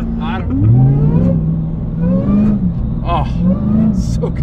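A Jeep Gladiator on 40-inch tires with a swapped-in Demon engine revs hard under acceleration, its rising and falling howl loud inside the cab, mixed with excited voices.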